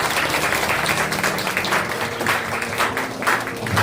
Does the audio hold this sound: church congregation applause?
yes